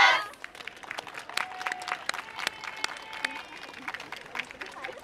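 Audience clapping along to a student yosakoi dance team at an outdoor oden and local sake festival, a scattered steady rhythm of claps filling the clip under faint voices.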